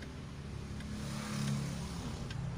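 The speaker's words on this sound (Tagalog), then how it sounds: "Ito yung dump truck ko." A dump truck used for hauling sand runs its engine in a steady low idle, a constant rumbling drone close by with no voices over it.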